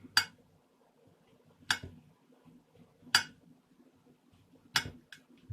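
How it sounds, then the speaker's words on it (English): A knife chopping mushrooms on a cutting board, four sharp, evenly spaced cuts about a second and a half apart, close and clear over a quiet kitchen background. "About 225 grams of mushrooms. And we're going to start chopping it up."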